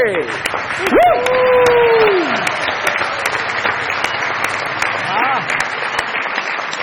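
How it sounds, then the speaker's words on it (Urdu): Applause from a TV studio audience on the Pakistani comedy show Mazaaq Raat after a motorcycle prize is awarded, steady clapping throughout with a voice and whistle-like cheers briefly rising over it near the start. "بہت ساری تالیاں بجائیے"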